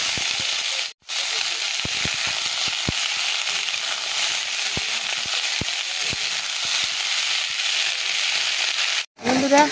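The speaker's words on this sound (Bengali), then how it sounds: "বাঁধাকপি ভাজাটা আগে বসিয়ে দিই।" Cabbage frying in a wok gives a steady, loud broadband sizzle with scattered crackles and pops, dropping out briefly near the start and again near the end.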